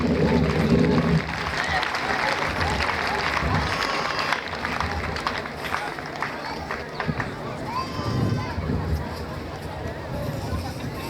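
A dense crowd cheers and acclaims the president of the EERCI church, Pastor Zamble Yao Germain, as he mounts the tribune at his investiture, a loud continuous roar of clapping and shouting with voices mixed in throughout.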